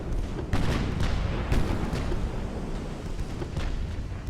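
Battleship guns firing in the naval video game Ultimate Admiral: Dreadnoughts, repeated deep booming salvos every half second or so over a continuous heavy rumble of battle.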